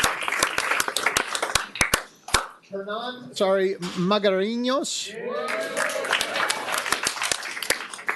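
Audience at a city council meeting clapping and cheering, a burst of sharp close claps at the start and again toward the end, with a person speaking into a microphone in between.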